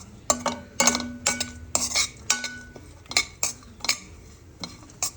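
Cashew powder and pieces fry in ghee while a spoon stirs them, scraping and clinking sharply against the pan about a dozen times in an uneven rhythm, with only a faint sizzle underneath.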